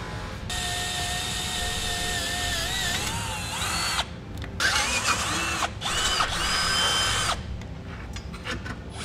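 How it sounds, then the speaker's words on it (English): A power drill whines in several bursts, pitch rising and falling as a small pilot bit bites into the steel frame of a 2017 Nissan Leaf, loud and close, with brief pauses between runs. "I'm going to start with a smaller bit just to make a pilot hole"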